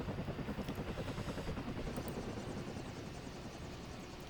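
A video game helicopter flies close by, its rotor giving a loud, steady rhythmic thumping over a broad engine roar that eases slightly toward the end, with no voices.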